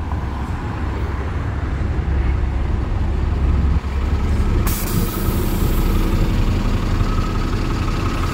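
A city sightseeing bus on a York street draws near with a steady engine drone and a sharp hiss of air brakes partway through, loud and close against traffic noise.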